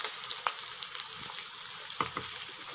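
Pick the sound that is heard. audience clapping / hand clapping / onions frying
onions frying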